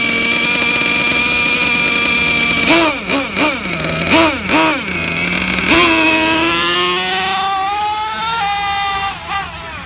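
A Losi LST XXL2 gas-powered RC truck with a two-speed transmission revs hard in a series of rising and falling bursts, then winds up steadily into second gear with a loud, high-pitched buzzing whine.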